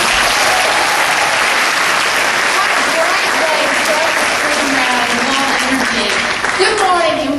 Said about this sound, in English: Let's give Danziger Productions another round of applause.